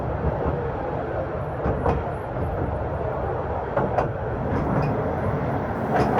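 A train rolls steadily along straight rails on a mining railway line, a continuous broadband rumble with a few faint clicks and squeals, close and fairly loud, with no talking.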